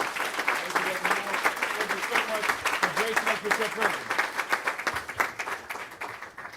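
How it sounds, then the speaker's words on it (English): A crowd at a religious address applauds an honored 95-year-old guest, a steady rattle of many hands clapping throughout while someone speaks over the ovation. "Let's give him another round of applause"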